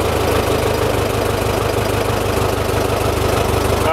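A 1926 Ford Model TT ton truck's engine idles after a little choke, giving a steady, loud low rumble with an even mechanical chugging throughout.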